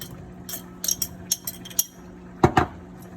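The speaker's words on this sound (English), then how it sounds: "Stir it up." A spoon stirs gumbo in a cooking pot, producing a scattered series of light metallic clinks and taps that end in two louder knocks against the pot, with no talking.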